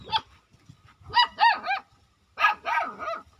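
A dog at a family home barks alone in two close bursts, first a set of three quick barks and then a second set of three.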